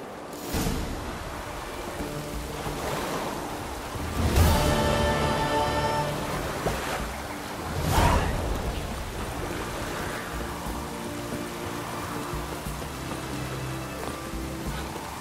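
Rain falls steadily in The Witcher 3: Hearts of Stone, a continuous hiss that swells briefly twice over a low background.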